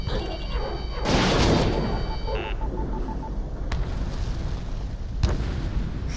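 A missile detonates in the Ace Combat 7 jet combat game, a loud roaring blast that swells for about a second and then fades into rumbling debris under cockpit warning tones and a steady engine drone.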